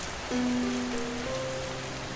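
Heavy rain falls in a steady, dense hiss, close and even throughout, with a faint tonal hum running beneath it and no voices.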